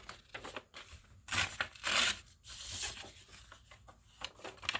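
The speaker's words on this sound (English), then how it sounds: "So let's kind of tear that up." Paper is torn by hand to size for book signatures, making several short ripping bursts of varying length, close and fairly quiet, separated by small rustles.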